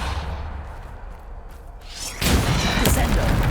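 A Depulso spell fires in Hogwarts Legacy: a rising whoosh builds over low ambience, then breaks into a loud, broad burst of force that sustains to the end.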